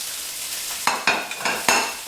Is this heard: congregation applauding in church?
no